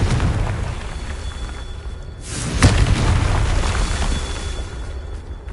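A deep boom from a Confringo spell in Hogwarts Legacy erupts mid-way through rumbling game noise, then trails off into a lingering roar.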